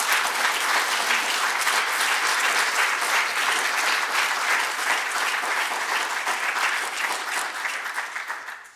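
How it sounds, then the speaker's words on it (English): A big round of audience applause for panelists at a financial services conference, dense and steady for several seconds before gradually thinning out at the end. "give them all a big round of applause"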